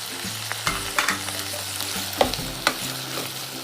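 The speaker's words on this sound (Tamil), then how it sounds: "போட்டு நல்லா வதக்கி விடுங்க." Soya chunks sautéing in a hot pan, sizzling continuously while a spoon stirs and scrapes them, giving several distinct clacks and scuffs over a low steady hum.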